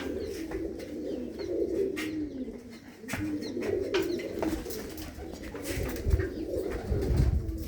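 Pigeons kept in a double-story loft of coop boxes keep up a steady chorus of low, throaty coos nearby, joined by faint chirps and occasional shuffling noises.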